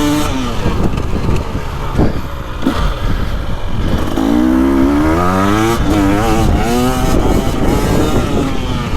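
A 2025 KTM 300XCW Champion Edition two-stroke dirt bike revs hard while being ridden, its engine loud and close, rising and falling in pitch through repeated throttle blips and gear changes.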